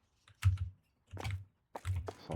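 Computer keyboard keys pressed while playing the game Supermarket Together, three short clusters of soft clicking taps separated by pauses, close and quiet with no talk.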